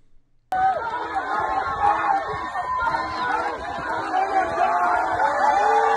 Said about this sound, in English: Listen to the cheering.